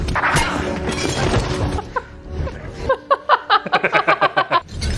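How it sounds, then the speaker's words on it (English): A glass shatters in a Daredevil (2003) movie scene, an abrupt loud crash followed by a string of bright, rhythmic clinking impacts and tinkling shards up close. "Breaks the glass and then catches it to use it."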